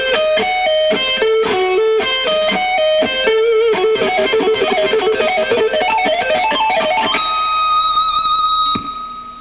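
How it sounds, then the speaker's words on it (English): Distorted electric guitar plays a fast diminished arpeggio lick in a speed lesson, running in quick repeated note patterns that climb steadily before ending on a sustained held note, loud and continuous with no talking. "It's a diminished arpeggio, and it goes like this."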